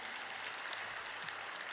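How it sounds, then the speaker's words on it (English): Audience applause at a stock exchange listing ceremony for Aequs Limited at NSE, a steady faint wash of distant clapping throughout with no talk. "Let's applause for him, everyone."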